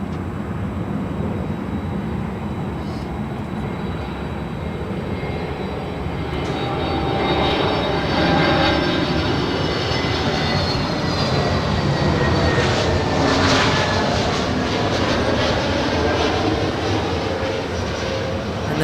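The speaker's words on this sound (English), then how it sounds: "An A321neo delivered in February of last year." An American Airlines Airbus A321neo airliner passes at LAX, its engine roar rising from a steady rumble to a louder whining rush midway and holding, with no talk over it.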